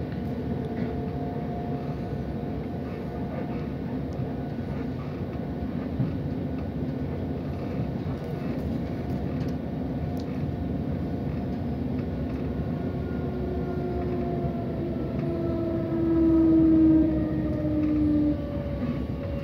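Southern class 377 electric multiple unit running at speed, a steady rolling rumble with a rising motor whine near the end, heard from on board with no voices.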